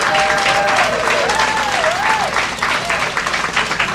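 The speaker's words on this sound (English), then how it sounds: "Can we have the Suitland community stand up again and give yourselves a round of applause for persevering" Audience applause from a Suitland, Maryland community gathering fills the room steadily and loudly for the whole stretch, with a voice faintly heard over the clapping.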